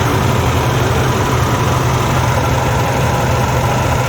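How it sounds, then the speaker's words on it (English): A Freightliner Cascadia diesel truck engine idles steadily with fresh oil just changed, a close, even low rumble with a constant throbbing hum and no voices. "The diesel sounds a lot more quiet."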